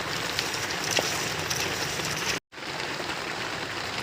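Rain falling steadily, a dense, even hiss of drops that runs throughout apart from a brief cut in the middle, with no talking.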